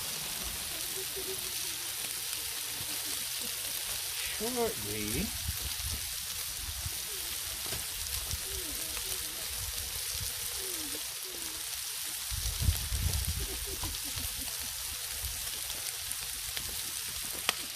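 Frozen peppers sizzle on a hot griddle for a Christmas paella, a dense, steady crackling hiss that runs throughout, with a few low bumps and clatters as the food is moved around.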